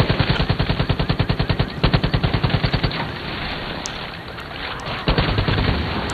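Rapid machine gun bursts in the video game Far Cry 5 zombie DLC: loud, close, evenly spaced shots in two fast runs, followed by a quieter stretch with scattered faint pops and a final heavy rumble.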